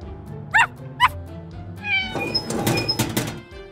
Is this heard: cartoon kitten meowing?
yes